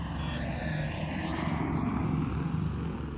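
A drone in the video game ARC Raiders hums steadily throughout, a continuous airborne engine drone with faint sweeping tones, holding at an even moderate loudness with no talking.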